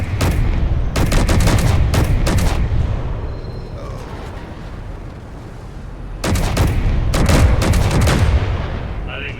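Ship guns fire in Space Engineers in two loud bursts of rapid shots at the start and end, separated by a quieter stretch of engine hum and game ambience.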